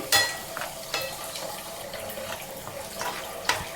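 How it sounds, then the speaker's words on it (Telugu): Vermicelli fries in hot ghee for a sweet payasam, giving a close, continuous bubbling sizzle broken by occasional sharp clicks and scrapes of stirring. "అదే నెయ్యిలో ఈ సేమియా కూడా వేసి వేయించుకున్నామండి"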